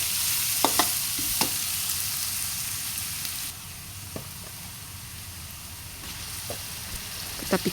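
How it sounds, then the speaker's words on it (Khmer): Garlic and lemongrass frying in hot oil in a pan for a Khmer dish, a steady broad sizzle throughout with a few sharp stirring clicks and pops, dropping slightly softer midway. "ចាក់ប្រេងឆាចូល ហើយយើងបំពងខ្ទឹមនឹងឲ្យរាងក្រហមមកដល់យើងចាក់គល់ក្រៃយើងចូល"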